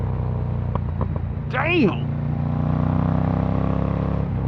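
A Ducati Monster Evo naked motorcycle engine idles with a steady rumble, then revs sharply once with a rising and falling blip, close by, as someone briefly speaks over it.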